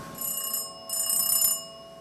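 A telephone bell effect register on a cinema organ in Berlin's Kino Babylon rings in two bright, sustained electric-bell bursts separated by a short gap. It sounds close and fairly loud, with no voices.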